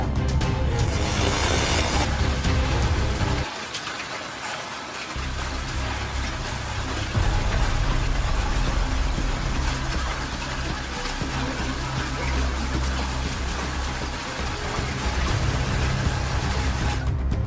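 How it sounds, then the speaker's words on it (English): Heavy storm rain with hail and strong wind gusts pours steadily in a flooded city, a dense, loud continuous wash of water that briefly drops and thins before surging back. "The rains were accompanied by hail and strong gusts of wind"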